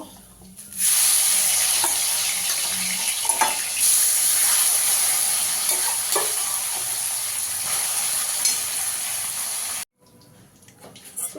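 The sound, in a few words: fish frying in oil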